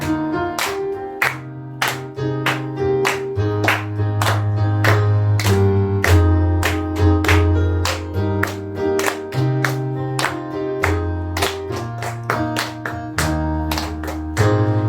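Steady rhythmic hand clapping keeps time with a children's Sunday school worship song sung online, claps evenly spaced and prominent over sustained singing and music throughout.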